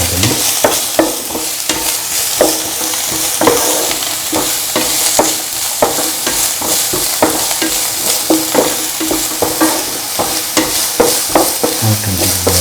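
Chopped onions fry with salt and green chilies in a pan, a continuous close sizzle broken by regular, brisk stirring scrapes throughout, with no voices.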